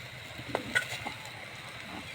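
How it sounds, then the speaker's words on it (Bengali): Soft, steady sizzling of fritters frying in oil, with a few light scraping clicks as pieces are turned; fairly quiet and close. "বড়াগুলো ভাজা হচ্ছে, উল্টে পাল্টে নিচ্ছে"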